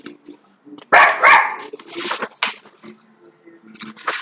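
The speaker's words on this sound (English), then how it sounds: "I can't make this dog stop barking" A dog barks several times nearby, loud sharp barks in irregular bursts, with some quieter vocal sounds in between.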